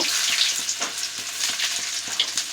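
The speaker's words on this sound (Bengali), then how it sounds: "পনির ভাজার তেলের মধ্যে আমি প্রথমে রসুন কুচিটা দিয়ে দিলাম" Chopped garlic frying in hot oil left over from frying paneer for chilli paneer, a steady close sizzle with soft crackle and faint stirring taps running throughout.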